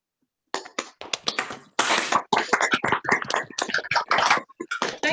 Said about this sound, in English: if everyone can unmute themselves, and we can give Chris a round of applause